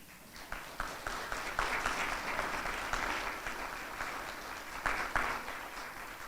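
An audience at a medical school white coat ceremony breaks into sustained applause, many hands clapping steadily at moderate volume in a large room, swelling briefly near the end.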